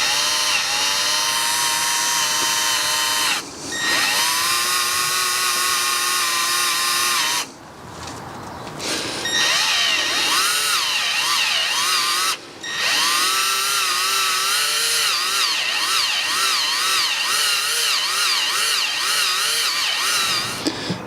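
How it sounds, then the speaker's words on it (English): A power drill whines steadily and loudly while boring out a snapped glow plug in a car engine, pausing briefly twice before resuming its high continuous drone. "you want to make sure that you are drilling absolutely in the center"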